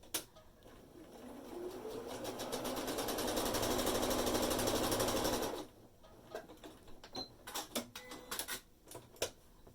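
A sewing machine stitches fabric along a marked line in one steady, fast whirring run lasting several seconds, then stops, leaving scattered clicks and handling sounds.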